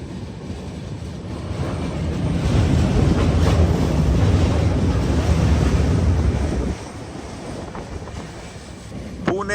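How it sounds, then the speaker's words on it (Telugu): A Pune-Howrah train with a WAP-4 electric locomotive and ICF coaches rumbles past close by, a loud swelling roar of wheels that holds for several seconds, then drops suddenly to quieter clatter. "ఇట్సే ట్రాక్లో ఏదో ట్రైన్ ఉంది, చూద్దాం ఏం ట్రైన్. వ్యాప్ 4 లోకోమోటివ్"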